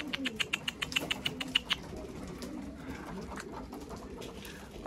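Pigeons cooing and calling nearby outdoors, a series of soft repeated calls over low background noise, with some fluttering.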